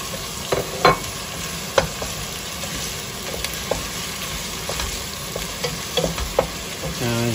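Chopped onion frying in hot oil as the base of a palabok sauce, a steady dense sizzle with occasional sharp crackles and stirring clinks close by, no voices.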